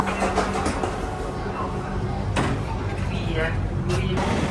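Interior of a moving tram in Milan, with a steady rumbling vehicle drone throughout, occasional rattles and a brief squeal, and people talking faintly in the background.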